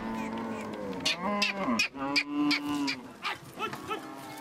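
Dinka cattle moo repeatedly, several long drawn-out lowing calls rising and falling in close succession, loud and near with no talking over them.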